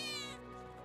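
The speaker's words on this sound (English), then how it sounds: "I think one of Betty's cats might be nearby." A cat meows once in the Final Fantasy VII Remake game, a short, close, fairly loud mew with bright harmonics that fades quickly into quiet background.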